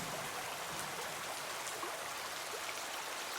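Soft, steady cartoon rain falls as a faint even hiss with scattered light drop ticks, continuous throughout with no voices.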